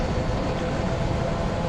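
An HR1500 Series EMU runs along the Sankai Main Line on a winter run in Train Sim World, giving a steady, dense rumble of motor and rail noise. The sound is continuous and fairly loud, with no voices.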